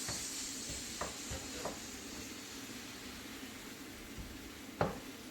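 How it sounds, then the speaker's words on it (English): Meat is stirred in a frying pan alongside leek and onions, giving a soft continuous sizzle with a few isolated scrapes and one sharper knock near the end, fairly quiet and without speech. "Just stir the meat around a little bit."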